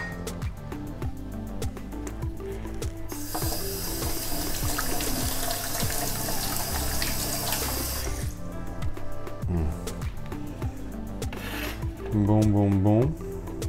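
Radishes are rinsed under a running kitchen tap, with a broad hiss of water lasting several seconds and rubbing, splashing handling sounds around it, close by. A voice murmurs briefly.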